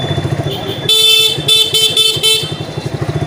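Motorcycle horn honking in repeated short blasts during a fast village ride, loud and close over the steady throb of the engine, with someone talking nearby.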